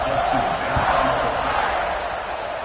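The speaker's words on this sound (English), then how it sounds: "this crowd is buzzing after that last score" Stadium crowd roaring and buzzing after a score at a Notre Dame home game in College Football 26, a dense, steady wash of cheering filling the whole clip with no pauses.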